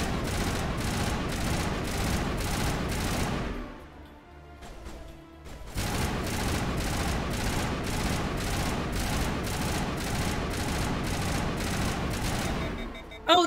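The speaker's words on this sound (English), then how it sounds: "not me shooting my teammate" Rapid automatic gunfire in a Mass Effect 1 Legendary battle, steady bursts of evenly spaced shots, broken by a brief lull before the shooting resumes just as loud and fast.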